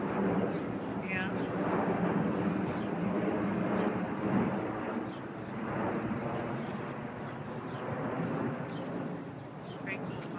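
A large airplane flying overhead, a steady broad roar that swells and eases across the whole stretch, heard from a distance outdoors while people talk over it.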